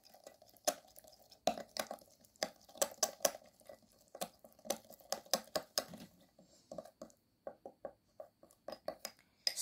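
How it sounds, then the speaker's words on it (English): Ground cloves being mixed into a homemade remedy, a spoon clinking and scraping against a small bowl in irregular bursts of sharp taps, close and fairly quiet, with short pauses between strokes. "Now mix the ingredients very well."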